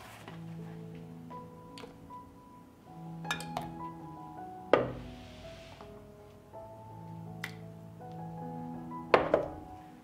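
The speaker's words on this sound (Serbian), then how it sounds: "I izvadit ću tegle iz šerpe." Glass jars of home-pasteurized milk lifted out of a cooking pot, giving two sharp clinks and knocks of glass against metal over a soft hum with faint tonal ringing.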